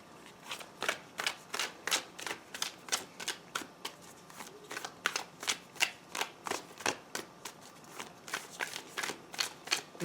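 Tarot cards being shuffled by hand, a rapid run of crisp riffling bursts repeating in a steady rhythm at close range, with no voices.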